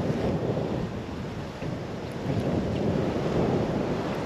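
Wind blows steadily at a lakeside bank during bass fishing, a loud continuous rumbling roar with heavy microphone buffeting and no voices.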